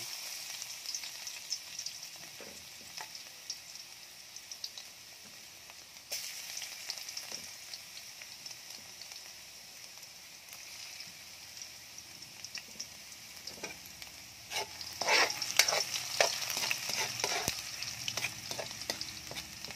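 Chopped garlic sizzles and fries steadily in hot oil in a pan, a continuous crackling hiss that swells louder toward the end with sharper pops and spatters; no talking.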